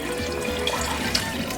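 Water poured into a plastic bag of seasoning in a kitchen, giving a steady close rushing gurgle for about a second and a half, with no talking.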